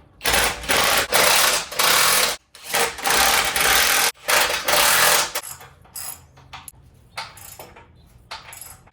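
Bolts being tightened on a Jeep Wrangler JL rear bumper, a loud buzzing power tool running in several long bursts with short gaps, then quieter clicks and rattles of the hardware.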